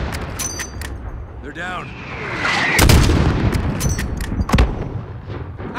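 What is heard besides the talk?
enemy gunfire in Call of Duty Modern Warfare video game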